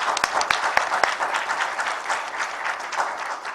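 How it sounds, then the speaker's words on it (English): An audience applauding at a university leadership training event, a steady wash of many hands clapping with a few sharp, close claps standing out early on. "Can we give him a big round of applause?"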